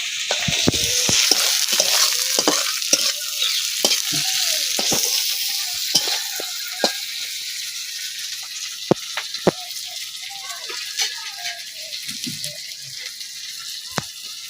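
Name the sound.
onion and tomato frying in a pan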